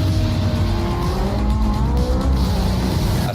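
Vintage Le Mans-winning Porsche race car in Project Cars 2, a loud dense engine roar with tyres squealing and skidding, steady throughout the short stretch with no voices.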